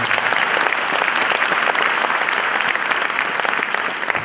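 A stand-up comedy audience claps steadily throughout, a dense, sustained round of applause with no break.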